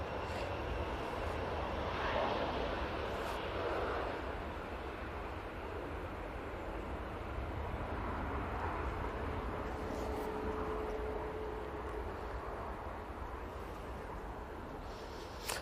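An airplane at Manchester Airport rumbles steadily with a broad, roaring engine drone that holds for the whole stretch, swelling slightly then easing, heard from a distance with no talk over it.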